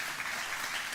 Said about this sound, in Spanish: Yo quiero que den un aplauso al Señor